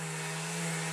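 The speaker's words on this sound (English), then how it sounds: "power sanding their floor" A power sander runs steadily on a house floor, giving a loud, continuous motor drone with a strong hum for the full second.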